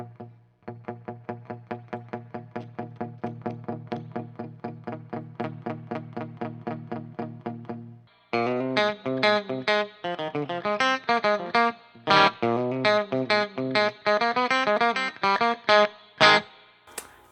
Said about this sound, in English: Actually, we have a reverb channel here too. Let's turn this all the way up.